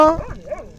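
Dogs give a short, close bark that trails into a whimpering yelp, heard alone and fairly loud.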